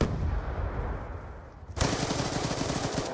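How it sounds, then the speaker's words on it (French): Video game gunfire shooting through a wall, rapid bursts of automatic fire that cut in abruptly partway through and rattle on, preceded by a dull muffled stretch. "je tire à travers le mur, le mec il me bute"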